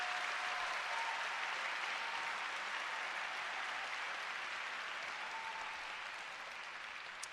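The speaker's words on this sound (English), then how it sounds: "Please join me in giving a heartfelt round of applause to all the parents, guardians, and loved ones who have helped make this day possible." Audience applause at an 8th grade graduation ceremony, a steady dense clapping from a large crowd that holds evenly for several seconds and tapers slightly toward the end.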